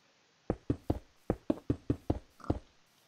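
A series of about ten dull, evenly spaced knocks of stone blocks being placed one after another in a video game, fairly close with no talking.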